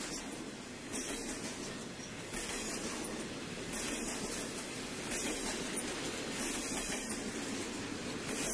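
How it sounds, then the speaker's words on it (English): New York Central diesel locomotive 6028, a GP9 running long hood first, hauls an eastbound freight train outside Detroit, Michigan, with a steady, loud rumble and continuous wheel and car noise passing close by. "Number 6028 was running Long Hood first as it pulled this eastbound freight just outside of Detroit, Michigan."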